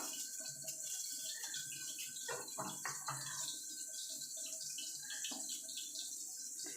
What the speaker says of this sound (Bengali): এবার এই বাটিটা ধুয়েও জলটা দিয়ে দেবো